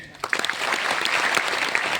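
An audience at a motivational business seminar breaks into clapping on cue, a quick rise into dense, lively applause that holds steady at close range.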